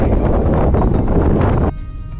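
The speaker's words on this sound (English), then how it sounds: "it's fucking windy" Strong wind buffets the microphone at the Chile–Argentina border on a road trip to Ushuaia, a loud, continuous roaring rumble with gusting pulses that drops abruptly to a lighter rush near the end.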